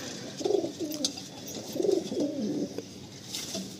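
Several racing pigeons coo softly in rolling, repeated phrases in an enclosed loft, with faint scuffs and clicks between calls and no talking.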